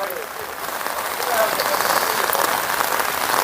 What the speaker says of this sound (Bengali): বৃষ্টি ঝিরঝির বৃষ্টি